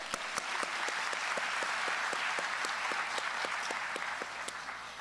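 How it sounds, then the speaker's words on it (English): Applause from a graduation audience for a speaker, steady and continuous clapping from many hands, fairly distant and even in level throughout, with no talking over it. "let's give her another round of applause."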